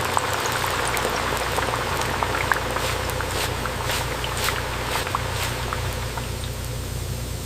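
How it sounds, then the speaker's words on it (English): Jackfruit chips deep frying in hot oil inside a factory fryer, a dense, loud, continuous bubbling churn over a low mechanical hum, unbroken throughout. "The jackfruit chips are deep fried until achieving this perfect golden color"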